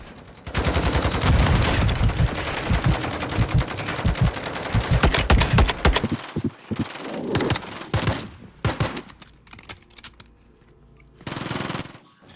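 Sentry guns and weapons fire on bots in Modern Warfare 2, with dense bursts of rapid automatic gunfire that thin out into scattered shots and short volleys toward the end.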